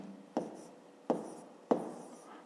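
Pen or marker writing numbers by hand during a fifth-grade maths exercise: three quiet, separate scratchy strokes spaced evenly, close and alone with no talk.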